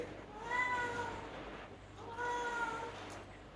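A pregnant cat meows twice, close by, with a pause between the drawn-out cries, against a quiet background.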